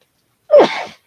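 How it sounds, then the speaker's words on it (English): A single close, sharp sneeze from an adult during a live vintage jewelry auction stream, bursting out of silence with a brief inhale-like onset and a noisy trailing blast, standing alone without talk. "excuse me, I'm going to sneeze."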